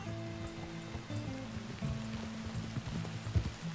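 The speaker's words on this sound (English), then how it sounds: "Look at this rain" Rain in the Red Dead Redemption 2 video game patters softly and steadily, mixed with low game music tones and the plodding clip-clop of hooves.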